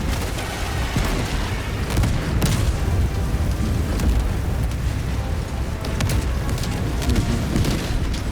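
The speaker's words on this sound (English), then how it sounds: "if I walked into this barrage or got hit by it, I would say it was my fault" An artillery barrage in Helldivers 2 rumbles on without pause, a loud, dense wash of deep booms and scattered sharper blasts that never drops away.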